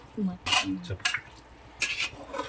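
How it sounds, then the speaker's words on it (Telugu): Mutton curry, about two kilos of ram meat, stirred in a pot with a spoon, giving several short scraping, clattering bursts with quieter gaps between them and a faint voice in the background. "బాగా మిక్స్ చేసుకోవాలి ఆ మటన్"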